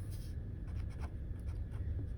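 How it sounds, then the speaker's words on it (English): Numbers being written by hand during a math lesson, soft scratchy pen strokes in short quick bursts, faint and close against a quiet room hum with no talking. "so we're going to write"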